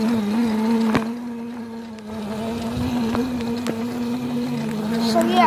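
A Razor MX350 electric dirt bike's motor runs with a steady high-pitched whine that holds for several seconds, close by, with a few sharp clicks and slight rises and dips in pitch.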